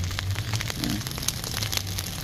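Rain pattering steadily on an umbrella during the rainy season in a backyard, a dense crackling patter with scattered sharper drops, close and continuous.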